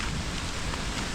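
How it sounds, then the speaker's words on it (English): Steady rain falling, a dense, even hiss of drops on surfaces, loud and close and unbroken throughout, with no voices. "they said this rain is supposed to last until about 7:30"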